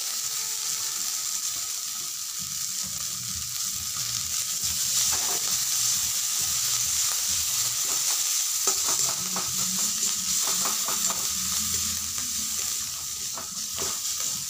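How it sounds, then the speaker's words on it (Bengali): Spiced potato filling with chili powder and chopped coriander stirs and fries in a pan for aloo paratha, a steady sizzle with scraping spatula strokes, continuous and close, with no talk. "এভাবে ভালো করে নাড়াচাড়া করে ভেজে নিতে হবে।"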